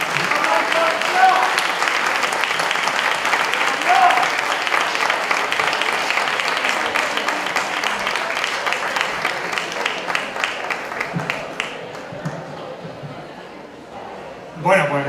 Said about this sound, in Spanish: Por favor, un fuerte aplauso para el senador Ferran Martínez.